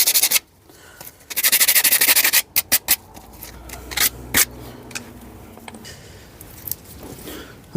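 Brake parts from a Skoda Estelle 120 scrubbed against emery cloth laid on the floor, giving bursts of gritty, rasping strokes, some long and some short and sharp, close and fairly loud with no talking.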